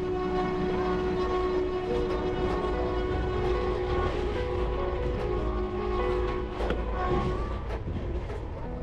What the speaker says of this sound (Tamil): ட்ரெயின் பார்த்தீங்கன்னா எக்ஸாக்ட்லி 6 மணிக்கு கிளம்பிடுச்சு.